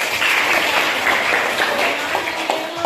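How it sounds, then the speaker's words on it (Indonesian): Applause in a classroom physics lesson on hydrostatic pressure, a dense, steady patter of many hands clapping close by throughout, with faint voices mixed in. "Oke, tepuk tangan dulu untuk"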